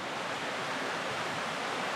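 A waterfall in Iceland's Eastern Fjords roars as a dense, constant rush of falling water, loud and even with no pauses and no voices over it.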